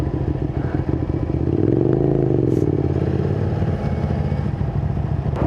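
A motorcycle carrying a rider and passenger rumbles along with a steady engine drone that swells briefly as it revs, accompanied by rattling and wind noise, and no voices.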